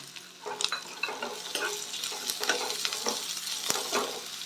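Fresh green peas frying in a pan with ginger-garlic paste over medium flame, a steady close sizzle broken by scattered clicks and scrapes of stirring, with no talk.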